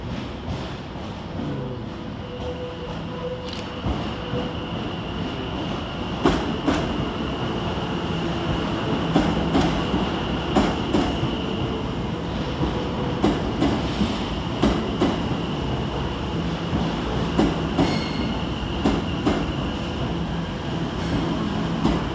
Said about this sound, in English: Also arriving to terminate with a Greater Anglia service off Southend Victoria is 720-501.